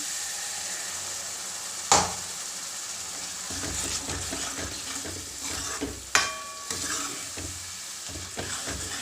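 Masala fries in oil with a steady close sizzle, cut by two sharp bursts as water is poured in, each followed by a louder hissing surge and scraping stirs.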